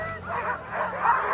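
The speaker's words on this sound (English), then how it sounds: "Ice is always a tough thing with a very happy, excited dog team" An excited sled dog team at the start of a race yelps and whines in quick overlapping bursts, fairly close, with eager high-pitched barks rising and falling.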